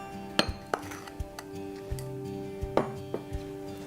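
Ingredients such as pumpkin and brown sugar clatter into a bigger glass bowl, giving a few scattered clinks and soft knocks with quiet gaps between them. The sounds are close and fairly faint, and no one speaks.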